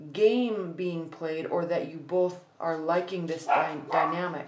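A pet dog barks and yips repeatedly indoors, close and fairly loud, mixed with a person talking over it throughout.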